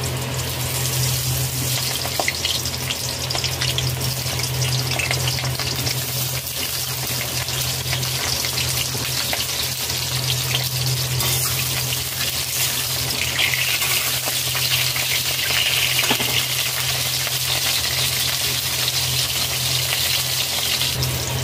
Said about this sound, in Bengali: কড়াইতে 3 টেবিল চামচ সাদা তেল দিয়েছি, তেল গরম হয়ে গেছে। পটল ভেজে নেব।